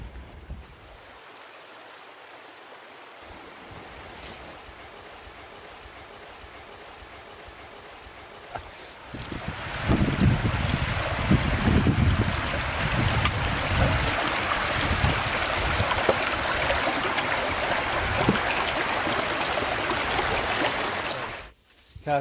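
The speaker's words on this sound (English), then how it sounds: "Can you hear the creek getting close?" A creek flows beside a hiking trail in Dolly Sods, West Virginia. At first the rushing water is quiet and distant, then partway through it swells into a loud, close, steady roar of flowing water that holds until the end.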